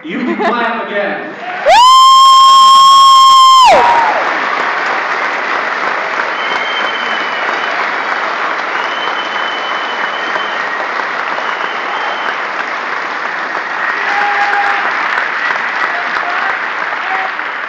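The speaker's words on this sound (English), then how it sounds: "You can clap again." A rally crowd at CMU breaks into sustained applause and cheering. A loud shout rises at the start, then dense, steady clapping continues throughout with scattered whoops.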